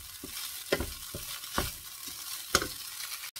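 Vegetarian fried rice is stir-fried in a pan, a spatula scraping and tossing in a quick irregular rhythm of sharp clinks and rustles over a light sizzle, close and fairly quiet.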